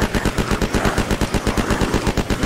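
A sustained burst of automatic fire from a gun in the video game Unturned, loud and near, with evenly spaced rapid shots hammering for about two and a half seconds.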